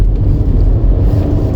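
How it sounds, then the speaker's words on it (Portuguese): Leapmotor C10 REEV, a range-extended electric SUV with rear-wheel drive, accelerating briefly on a rainy road, heard as a loud low rumbling road and motor drone from inside the cabin, steady with no voices. "Dá uma aceleradinha."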